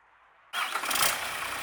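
An Isuzu 6HK1 diesel engine with an in-line injection pump, 280 horsepower, cranks and fires abruptly after a quiet moment, then settles into a loud, steady, close idle.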